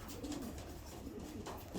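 Pigeons that peck around on the ground like chickens coo in low, soft, repeated calls, steady throughout and fairly close, with no talking.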